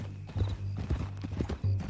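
Horse hooves clip-clopping on the ground in Red Dead Redemption 2, a steady rhythm of close, distinct hoofbeats over a low hum.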